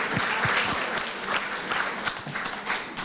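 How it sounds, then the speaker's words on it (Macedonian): An audience at a conference panel session applauds with steady, dense clapping that fills the whole few seconds. "заслужувате сите во публика еден многу голем и силен аплауз"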